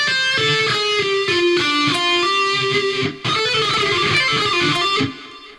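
Electric guitar playing a lick built from groups of ten and nine notes, taken at slow speed: a clear run of rapidly picked, ringing notes in close succession, with a brief break before the phrase repeats and stops.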